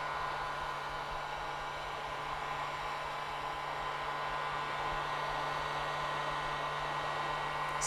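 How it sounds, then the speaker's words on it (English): A heat gun blows hot air to activate glue on an Air Max 1 sneaker upper, a steady loud whooshing hiss with a constant low hum, uninterrupted throughout. "now we're going to take our heat gun and we're going to activate this glue"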